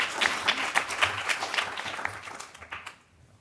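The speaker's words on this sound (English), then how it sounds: "Can I give another round of applause for Kate, please?" Audience at a microbial ecology lecture session applauding a speaker, a brief burst of crowd clapping that fades out within a few seconds.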